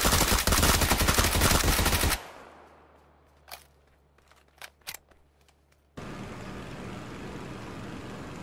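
Loud rapid automatic gunfire from PUBG bursts for about two seconds, then a quiet gap with a few sharp distant single shots, then a steady hiss of game ambience; no speech.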